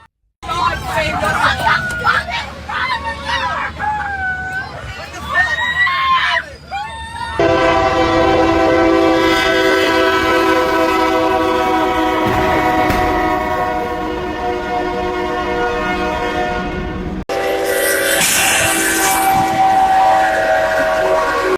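Excited voices and shouting give way to a long, loud, sustained train horn blaring close by as a train narrowly misses a bus, followed by a rumbling rush of noise.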